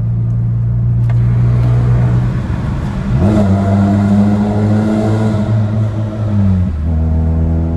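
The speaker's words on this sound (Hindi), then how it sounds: "अच्छा मैं आपको एग्जॉस्ट की बात सुनाता हूँ," A car engine revs up and down, its exhaust droning with rising and falling tones, some rough crackle at the throttle changes, loud and close.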